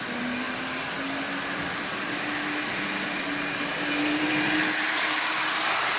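A Lionel 2036 Magnetraction model train locomotive runs steadily on a 12-volt DC controller, giving a continuous electric motor whine with a humming drone that swells slightly louder toward the end, heard alone without talk.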